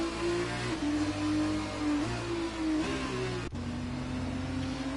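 F1-style race cars in a video game at Singapore drone with steady, tonal engine whine, pitch shifting up and down as they rev and cruise, fairly loud and continuous with no talk.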